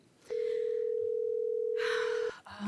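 During a public college district board meeting, a steady telephone tone drones for about two seconds at moderate level. A murmur of voices rises beneath it toward the end.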